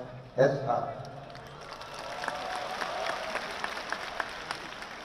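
Audience applause rises at a Gerindra party national leadership meeting, a broad, steady wash of many hands clapping and a murmuring crowd that continues for several seconds after a brief spoken word at the start.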